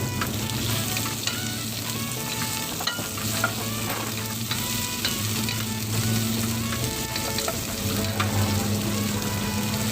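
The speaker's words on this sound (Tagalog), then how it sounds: "Mainit na ating mantika, maglagay tayo bawang," Garlic and onion frying in hot oil for Bicol-style dinuguan, a steady bright sizzle with occasional crackles and scraping stirs, close and continuous without any talk.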